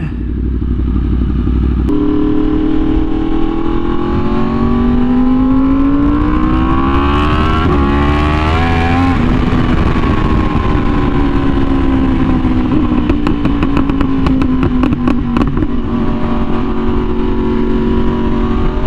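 Yamaha R1M sport motorcycle ridden on the road, engine loud and close throughout, revs climbing and falling through gear changes with a steady roaring drone.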